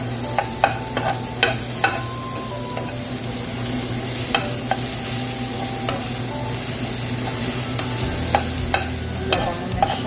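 Garlic sizzles steadily in hot oil in a pan while being stirred, with sharp spatula scrapes and clinks standing out over the continuous frying hiss, close and loud, no talking.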